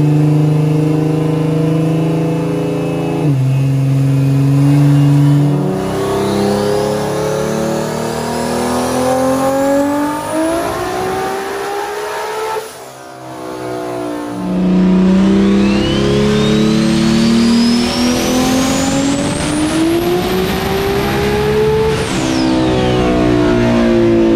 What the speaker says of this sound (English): the pass we just saw here on the dyno was about 45 pounds of boost